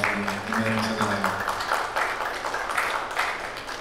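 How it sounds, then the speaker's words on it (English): Church congregation at a Sunday evening service breaking into sustained clapping, a dense steady patter of many hands over a short stretch, with a voice briefly audible at the start. "Let's give him a clap offering"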